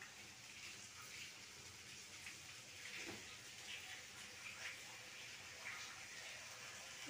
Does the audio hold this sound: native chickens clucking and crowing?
no